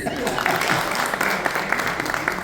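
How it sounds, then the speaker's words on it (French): An audience at a literary talk claps steadily for a young questioner, a continuous patter of hands fairly close, with a voice speaking over the applause. "Yassir, on applaudit Yassir."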